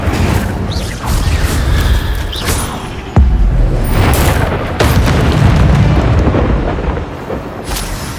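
Hogwarts Legacy combat with an Incendio fire spell cast again and again: heavy booming blasts and crackling bursts over a dense rumbling backdrop, with sharp impacts landing close together.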